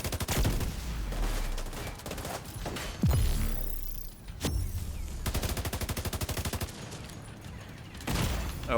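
Gunfire rings out in a Division 2 firefight against an enemy sniper: sharp single cracks and loud bursts, then a fast rattling volley of rapid shots, with short lulls between exchanges.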